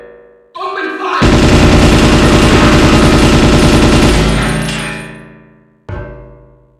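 Loud, sustained automatic gunfire from the PS2 game Ghost in the Shell: Stand Alone Complex, a dense rapid burst lasting several seconds that tails off, with a brief lead-in sound before it and another short blast at the end.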